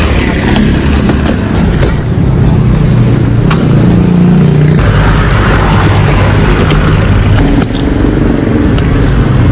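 A motorcycle with a flat battery, being started with a jump starter, roars loud and close in a continuous rough rumble with brief sharp pops over the engine noise.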